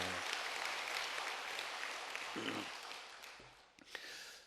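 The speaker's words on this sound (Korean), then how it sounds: "우리 다시 한번 감사의 박수를 좀 해주시길 바랍니다" Church congregation at a Korean worship service gives applause of thanks, soft, distant clapping that thins out, with a few faint voices and rustles.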